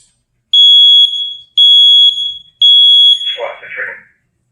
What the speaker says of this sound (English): It's just a smoke detector.